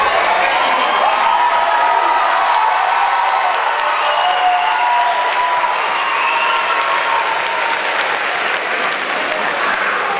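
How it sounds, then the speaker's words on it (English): A large audience applauds and cheers steadily, dense clapping with whoops and shouts rising from the crowd, loud and continuous throughout. "the longer that you applaud and cheer"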